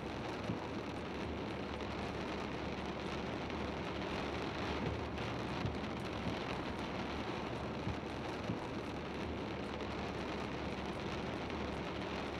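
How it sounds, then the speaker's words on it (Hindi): Steady rain pours down without a break, a dense, even hiss at moderate distance with no speech over it. "घूम घूम कर सोच रहे हैं कि बारिश रुके तो शुरू करें।"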